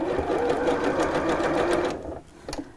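A sewing machine stitches a decorative border in a steady, rapid whirring run, then stops abruptly, leaving only a few faint clicks.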